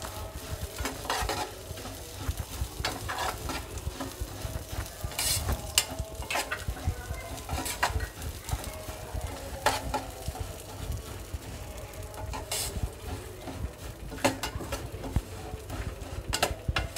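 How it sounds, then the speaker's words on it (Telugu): Semiya vermicelli fries in a pan with a soft continuous sizzle and intermittent scraping knocks of a spoon stirring it, while pigeons or doves coo faintly in the background and no one speaks. "ఈ సేమియా కూడా ఇందులో వేసేసుకుంటున్నాను. దీన్ని కూడా చక్కగా ఫ్రై చేసుకోవాలి"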